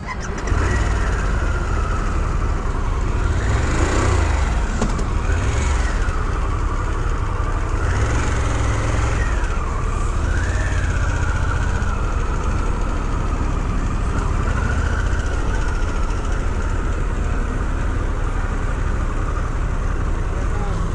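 Harley-Davidson Pan America Special motorcycle, 2023 model, on the move with a steady engine drone and wind rush, rising and falling revs through gear changes, loud and continuous for the whole stretch.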